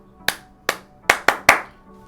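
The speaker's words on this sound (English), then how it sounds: "nice clap" Five sharp, close hand claps ring out in an uneven pattern, two spaced singles followed by a quicker burst of three, used to call for attention during a school assembly.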